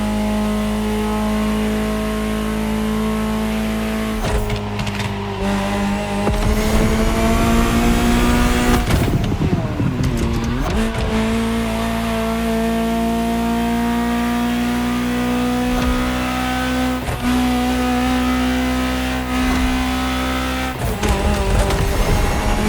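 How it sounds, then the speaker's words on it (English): A Ferrari supercar engine from the racing game The Crew Motorfest revs loud and close, holding a steady drone and climbing in pitch, with sharp throttle blips and gear changes partway through. "Just listen to the car you're driving."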